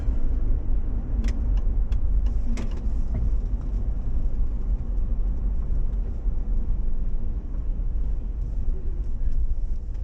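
A car drives along a lakeshore road in Oakville with a steady low rumbling engine and tyre noise inside the cabin and a few faint clicks, with no one talking.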